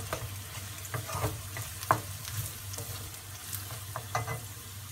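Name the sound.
ground lentils stirred into frying onions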